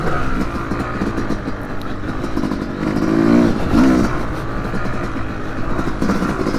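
A 2025 Yamaha YZ250X two-stroke dirt bike with a high-compression head pulls hard in second gear out of trail corners, its buzzing engine rising and falling in loud, close bursts as it accelerates.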